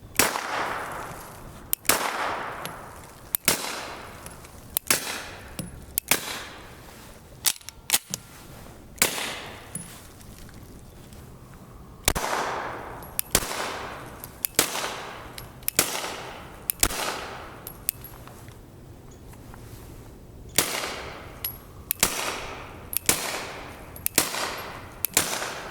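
FN FNS-9C pistol with an EFK Fire Dragon threaded barrel fired at a range, sharp loud shots in uneven strings and doubles with short gaps, each cracking report trailing a brief echo.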